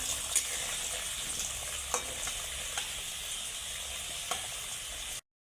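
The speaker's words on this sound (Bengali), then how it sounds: "অল্প পরিমাণে হলুদ দিয়ে আলুটা এখন সুন্দর করে ভেজে নামিয়ে নেবে।" Potatoes frying in oil with turmeric and salt make a continuous close sizzle with a few light stirring clicks, ending abruptly.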